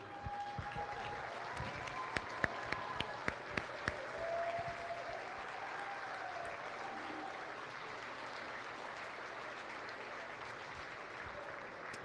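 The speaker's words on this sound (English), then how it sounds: "All these girls right here in front of me need a standing ovation right now" A crowd in a county fair livestock arena gives a standing ovation, with steady sustained clapping throughout and a few sharper, louder claps standing out early on.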